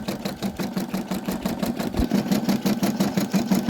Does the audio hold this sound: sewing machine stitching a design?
yes